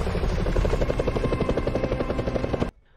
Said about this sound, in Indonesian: menumpang ke helikopter rumah sakit yang datang untuk menolong anak buah Max yang ia tembak